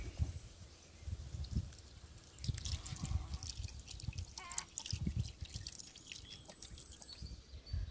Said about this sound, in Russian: В свежевыжатый сок половинки лимона добавляем 200 мл воды